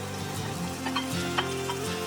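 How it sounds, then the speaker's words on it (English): Garlic, shallot, chili and lemongrass stir-fried in oil in a frying pan, giving a steady close sizzle with scraping stirs and light clinks of the utensil against the pan. "Stir fry for about 1 minute or till you can smell the fragrance."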